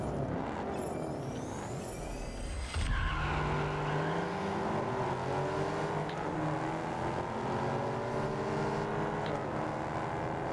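A car pulls away in the Test Drive Unlimited Solar Crown racing game, its engine rising in a steady, loud roar with shifting pitch sweeps, preceded by a brief rush of start-up noise.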